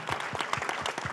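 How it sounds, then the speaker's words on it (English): An audience at a symposium applauds, a brief patch of dense, steady clapping from many hands close by. "We'll give him a round of applause."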